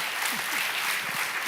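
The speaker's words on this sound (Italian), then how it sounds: "Intanto goditi tutto questo applauso, Maria Teresa" Dense, steady applause from an audience for Maria Teresa at a televised tribute, a continuous bright wash of clapping throughout.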